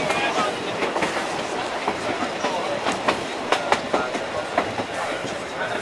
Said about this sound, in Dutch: Zo, nou we zitten in de trein hoor.